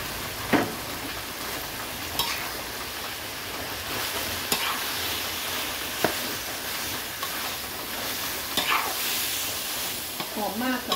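Minced pork stir-fried with bamboo shoots and basil leaves, a steady loud sizzle with a spatula scraping and clinking against the pan every couple of seconds, with no talk.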